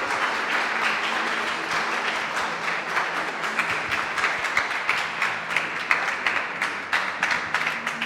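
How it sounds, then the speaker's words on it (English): A podcast audience bursts into hearty, sustained hand clapping as guests are called to the stage, the dense applause holding steady with a few louder individual claps standing out toward the end. "Let's give them a great big hand clap of praise."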